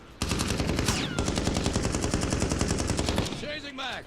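Rapid automatic gunfire in the Call of Duty Warzone video game, a loud, continuous burst of dense shots lasting about three seconds before cutting off, followed by brief ringing.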